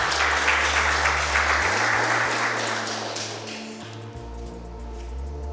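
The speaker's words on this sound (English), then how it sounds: "Will you not clap for the quiz master?" Studio audience applause at a university quiz show semifinal, a dense steady wash of clapping that gradually thins and softens toward the end, with a low tone humming underneath.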